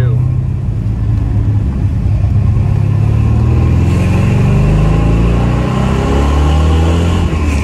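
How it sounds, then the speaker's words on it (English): A 1978 Chevrolet Corvette with a four-speed manual revs and drives, its engine exhaust producing a loud, deep, continuous rumble with rising and falling pitch as it accelerates, close and dominant, with a voice talking briefly over it. "Exhaust sounds really good too."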